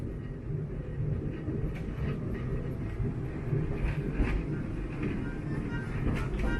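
A Disneyland Railroad train rolls along its rails in California, giving a steady, fairly quiet rumble with light clatter throughout.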